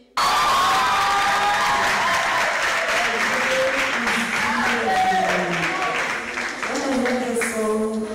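A large crowd applauds and cheers continuously, loud and sustained, with whoops and shouts rising over steady clapping throughout.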